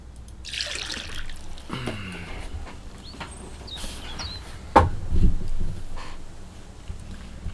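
Water trickles and splashes as green water is poured from a bucket in the survival game Mist Survival, with outdoor ambience, a brief louder splash partway through, and faint clinks.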